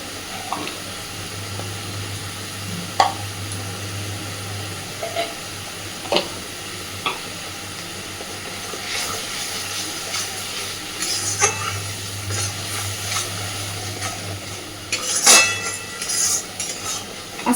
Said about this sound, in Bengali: আস্তে আস্তে মশলাটাকে নাড়তে থাকবো যতক্ষণ না তেল বেরোচ্ছে